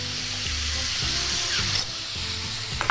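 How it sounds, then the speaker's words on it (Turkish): Butter dropped into a hot pan of chopped meat sets off a loud, continuous sizzle and crackle of frying, steady throughout with a few sharper pops and scraping sounds near the end. "Biraz da etime lezzet vermek için yine son tereyağı atacağım."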